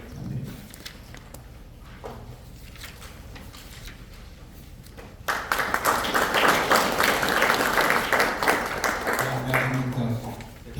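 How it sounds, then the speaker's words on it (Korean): A lecture audience bursts into sustained applause after a few seconds of quiet room noise and brief talking, the clapping dense and lively until the end. "선생님께 박수 부탁드립니다"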